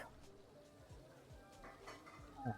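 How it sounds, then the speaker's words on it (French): Dishes being washed in a Parisian brasserie restaurant simulation game, faint scattered clinks and clatters of plates and cutlery with a brighter knock near the end. "L'autre, il fait la vaisselle."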